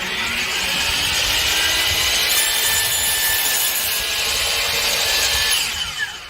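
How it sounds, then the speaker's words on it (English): A DeWalt power saw cuts through a piece of wood with a loud, continuous buzzing rasp that holds steady for several seconds and then tapers off. "if you need to go ahead and cut a piece of wood, DeWalt's the way to go"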